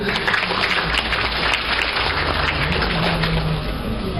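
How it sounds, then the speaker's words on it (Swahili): Audience applause at the opening ceremony of the Sabasaba trade fair, a dense, steady wash of clapping from a large crowd that stays loud and even throughout. "naomba tumpigie makofi."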